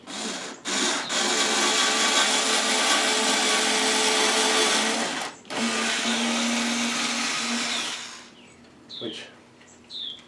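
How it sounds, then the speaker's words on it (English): A Craftsman drill bores at an angle into wood for a mobile miter saw table stand, a loud steady whir running about eight seconds with a brief pause, then fading to quieter handling sounds. "I can try to drill it at an angle too"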